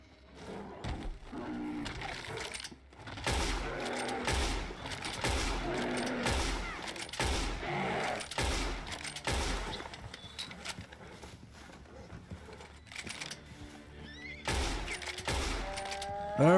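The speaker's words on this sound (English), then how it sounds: "there is a bear, so I'm gonna shoot the bear" Gunfire in a video game at a bear, a rapid series of close, sharp shots coming in uneven bursts with short gaps, fairly quiet overall, with faint game sounds around them.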